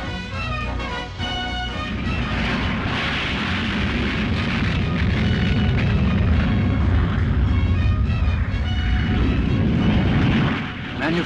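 An MRCA swing-wing jet with consortium-built RB199 engines roars loudly and continuously, a heavy rumbling blast that swells and holds for several seconds before easing slightly at the end.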